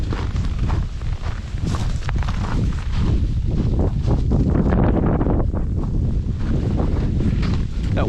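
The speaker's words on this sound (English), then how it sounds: "That wind is picked up." Strong, steady wind roars and buffets the microphone on an outdoor hiking trail after an ice storm, loud and continuous, with faint crunching footsteps beneath the gusts.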